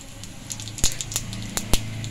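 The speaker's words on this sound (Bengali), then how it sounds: "তেল গরম হয়ে গেছে, দিয়ে দিচ্ছি গোটা জিরে" Whole cumin seeds drop into hot oil and give a soft steady sizzle, close by, with a few sharp crackling pops scattered through it.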